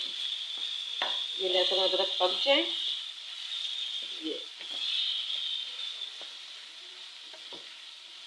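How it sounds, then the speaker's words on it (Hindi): Ginger garlic paste frying in hot oil at medium flame, a steady sizzle with stirring scrapes, while someone talks briefly over it. "इसको मैं मज़ीद इसको फ्राई कर लूँगी लहसुन के पकने तक"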